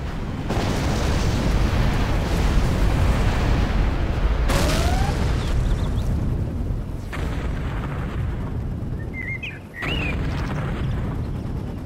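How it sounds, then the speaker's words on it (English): Missile bombardment in C&C Generals Zero Hour, a dense, sustained barrage of heavy booms and rumbling blasts, with sharp new impacts cutting in and a few whistling projectile sounds. "Commencing missile bombardment"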